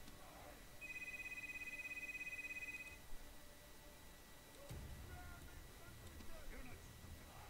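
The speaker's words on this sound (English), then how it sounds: "And the phone's ringing." A telephone rings near the start, a steady electronic warble holding for about two seconds at a faint, indoor distance, then stops, leaving quiet room noise with a soft thump and low background sound.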